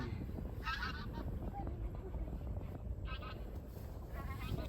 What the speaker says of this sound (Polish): To są gęsi.